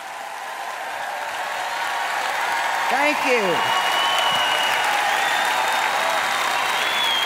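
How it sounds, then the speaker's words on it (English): An audience at an event applauds as a speaker is welcomed onstage, a steady dense wash of clapping swelling and holding for several seconds while a voice speaks briefly over it. "Give her a great big hand clap as she comes"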